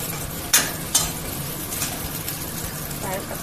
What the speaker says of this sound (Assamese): আৰু এনেদৰে ৰঙা হোৱালৈকে পিঁয়াজখিনি ভালকৈ থৈ দিম